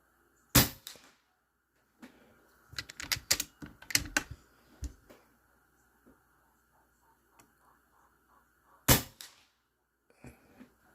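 Air Venturi Avenge-X PCP air rifle with a factory high-capacity magazine firing FX 25 grain pellets: two sharp, loud cracks about eight seconds apart, with a scatter of quieter clicks and taps between them.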